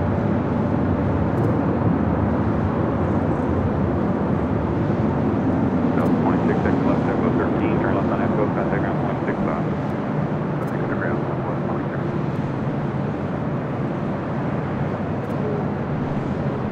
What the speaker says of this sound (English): the Lufthansa Queen already cleared for departure